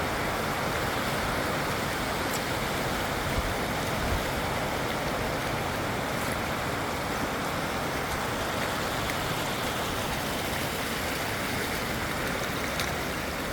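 A river flowing over rocks, a steady broadband rush of water that stays even and unbroken throughout, moderately loud and close, with no voices heard.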